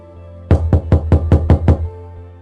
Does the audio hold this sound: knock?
yes